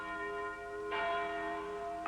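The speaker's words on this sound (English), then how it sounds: "The bells are ringing, cried the minister" Church bells ring out in a sustained, resonant peal with a fresh strike midway, fairly close and full, alone without speech.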